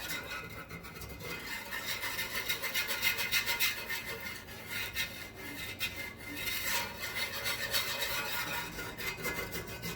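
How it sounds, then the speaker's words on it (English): Wire whisk stirring white gravy in a pan, a continuous rhythmic scraping and rubbing of metal wires against the pan, close but fairly quiet, with no talk. "I'm using a wire whisk because I want to make sure this shit is broke up."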